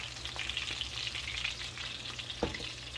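Coconut shrimp frying in a pot of oil make a dense, even bubbling sizzle with a sharper burst near the end, close and unaccompanied by speech.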